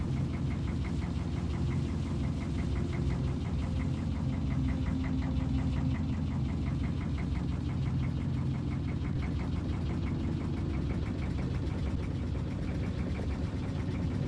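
Diesel engine of a small Norwegian Sjarken fishing boat in Fishing: Barents Sea, a steady low rumbling drone with a faint rhythmic knock that holds evenly throughout, with no voices.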